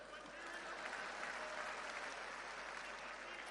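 Sustained audience applause fills a political gathering where a chief minister addresses newly elected district council and block committee members, a dense, steady wash of many hands clapping at moderate distance.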